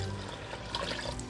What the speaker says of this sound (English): now we need to add in 1 cup of vegetable broth